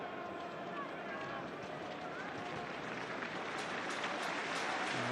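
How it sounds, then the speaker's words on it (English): A football stadium crowd at Huddersfield Town against Blackburn Rovers in the EFL Championship applauds a player getting back to his feet, a steady distant wash of clapping and crowd noise filling the whole stretch. "Applause for Christopher Schindler as he gets back to his feet"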